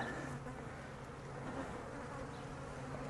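Honeybees drone loudly and continuously as the first frame is slowly pulled from the hive, a close, even buzz with no speech.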